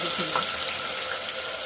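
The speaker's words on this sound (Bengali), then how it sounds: "এখানে শুকনো লঙ্কা, 5 ফোড়ন, তেজপাতা সব দিয়ে দিচ্ছি" Dried chillies, panch phoron and bay leaves sizzling in hot oil, a close, steady crackling fry with small pops near the start.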